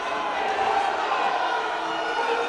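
Ice hockey arena crowd during a Solway Sharks at Billingham Stars match, a steady roar of massed voices reacting after a shot is tipped against the goalie's mask, broad and continuous with no single voice standing out.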